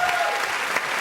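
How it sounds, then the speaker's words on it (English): A studio audience at a late-night talk show applauds in a dense, steady patter of clapping for about a second, with brief vocal traces over it. "Please stop applauding!"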